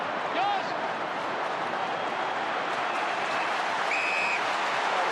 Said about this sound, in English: It's time to stand and applaud your team as they're doing on the bench.